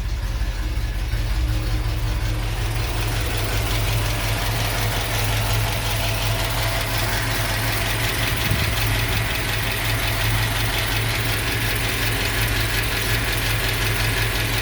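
A 1957 Chevrolet Bel Air convertible with a 283 V8 and performance cam idles nearby, a loud, steady rumble with a lumpy, chugging beat that holds evenly throughout, no voices.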